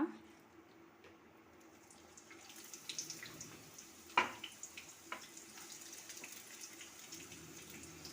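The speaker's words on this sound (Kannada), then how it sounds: "ನೋಡಿ ಎಣ್ಣೆ ಬಿಸಿಯಾಗಿದೆ ಇವಾಗ ಈರುಳ್ಳಿನ ಹಾಕೋಣ" Chopped onions are added to hot oil in a pan on a home stove while making red chilli chicken fry: a faint, steady hiss, a sharp clatter about halfway, then a quiet, crackling sizzle.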